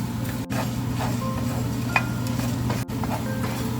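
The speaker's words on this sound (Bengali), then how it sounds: "তো এটাকে আমরা ড্রাই রোস্ট করে নেব লো টু মিডিয়াম হিটে।" Star anise, cloves, dried red chillies and cinnamon dry roasting in a pan over low to medium heat, with a soft steady rustle, faint scraping and occasional light clinks against a low kitchen hum.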